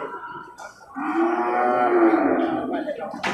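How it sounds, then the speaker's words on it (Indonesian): A male water buffalo at a livestock market gives one long, loud, close lowing moo lasting about two seconds, with no talk over it. "Itu juga kan kerbau jantan."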